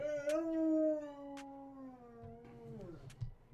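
A dog howls up close in one long, drawn-out wavering tone that slowly falls in pitch and fades. A few faint clicks and knocks follow at the end.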